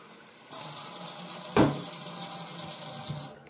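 Water pours steadily out of a hole in a toy cow, a continuous splashing stream with a brief louder gush partway through, close and fairly loud.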